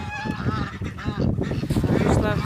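Geese honk repeatedly and loudly close by on a farm, an overlapping chorus of nasal calls, with someone speaking faintly underneath.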